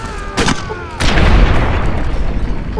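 Incendiary grenade blast in the Fallout New Vegas video game: a loud booming burst at about one second that rolls into a sustained crackling, fiery roar, following a brief earlier pop.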